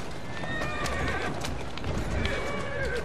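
Horse whinnying and neighing in Assassin's Creed Syndicate, set in Victorian London, with clip-clopping hooves and street bustle around it, loud and close throughout.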